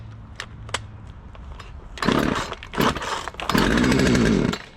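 A chainsaw is started and run to burn off the remaining gas, loud rising engine bursts after a quiet lead-in, revving near the microphone with no talking.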